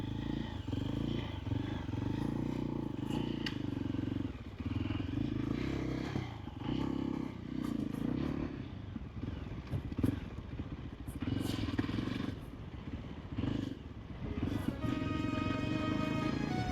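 A motorcycle rides along a roadside on a coastal route between Lamu and Malindi, a steady close engine drone with rattles, scrapes and bumps from the rough surface throughout.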